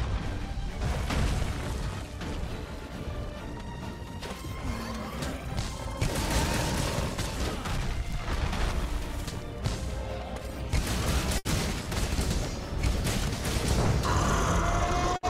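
The monster Bazelgeuse in Monster Hunter: World drops bombs that detonate in loud crashing booms and pops over a continuous rumbling fight, with bursts clustering at intervals and a sharp crack near the end.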